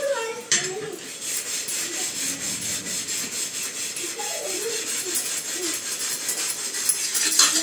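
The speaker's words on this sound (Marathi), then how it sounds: "सगळा तवा आता मी घासून घेते मग तुम्हाला दाखवते किटण कसं निघालं" An iron tawa griddle crusted with burnt-on residue is scrubbed hard, producing a continuous close rasping, scraping rub in a quick steady rhythm, with a sharp knock near the start.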